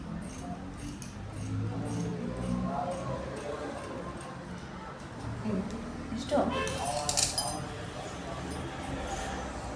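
Scissors snipping through crop top cloth, light repeated clicks and cuts in a loose rhythm, close and soft beneath someone talking steadily.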